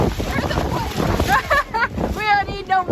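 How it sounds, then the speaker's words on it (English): Strong gusts buffet the microphone at the Cape Scott campsite in autumn, a low rumbling roar that rises and falls beneath a person talking. "As you can see, it is very windy."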